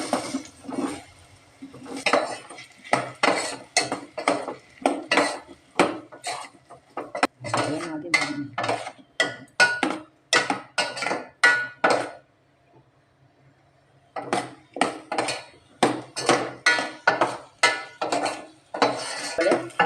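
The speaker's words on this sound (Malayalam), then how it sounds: "അതിനകത്തിലോട്ട് ഇങ്ങനെ ഇതുപോലെ നുറുക്കി വെച്ചിരിക്കുന്ന പഴുത്ത ഏത്തയ്ക്ക ഇട്ട് കൊടുക്കുകയാണ്" Chopped ripe plantain is sautéed in a pan, with repeated metallic scraping and clinking of a utensil against the cookware in quick bursts. A short pause breaks the stirring near the middle.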